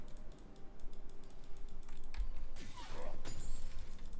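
Someone typing on a computer keyboard during a League of Legends match, with a run of light clicks over steady game sounds and a louder burst of noise toward the end.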